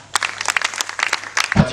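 Brief applause breaks out at an evening award ceremony as a laureate is named, a quick run of distinct close claps ending in a low thump.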